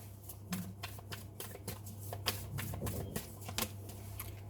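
Tarot cards are shuffled by hand close up, making a quiet, rapid run of crisp riffling snaps and flicks in an irregular rhythm over a faint steady hum.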